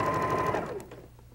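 A sewing machine stitching quilt pieces for a pinwheel quilt, a steady close whirring run that slows and stops after about a second.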